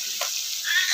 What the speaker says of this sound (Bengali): তো এই কড়াইও মাছ ভাজা চলছে।